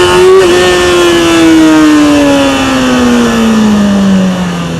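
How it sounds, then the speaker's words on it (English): Motorcycle taking off in first gear under hard throttle, a loud, close engine roar whose pitch climbs sharply and then holds as it pulls away steadily for several seconds. "We're going to take off in first gear, accelerate hard, and you're going to see the front end's going to just gently come up"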